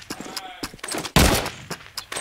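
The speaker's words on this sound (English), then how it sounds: "Rattling off a couple of shots, just seeing if he can connect with anyone" Gunfire in a first-person shooter match heard as a quick burst of several shots with one loud blast in the middle, under a commentator's voice.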